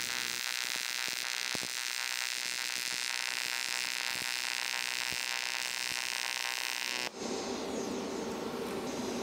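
AC TIG welding on aluminum pipe with filler rod added: a steady, dense electric buzz with a harsh hiss. It runs continuously, then shifts abruptly to a brighter, rougher crackle near the end.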